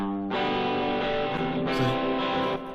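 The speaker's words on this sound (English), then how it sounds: "So you can hear the distortion, you can hear the echo." Playback of a recorded electric guitar through internal distortion and echo effects acting as a virtual amp: a sustained, heavily overdriven chord with a smeared echo tail, loud and alone.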